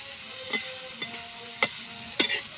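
Chilu, a wild monsoon green, is stirred in a pan with a soft background sizzle, punctuated by four distinct scraping strokes of a spatula against the pan at uneven intervals.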